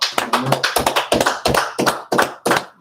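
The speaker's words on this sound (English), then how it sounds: "Let's clap it up for the sisters." Hand claps at a Purim feast gathering, about eight sharp, close claps in a loose, slightly uneven rhythm, standing out clearly with little else around them.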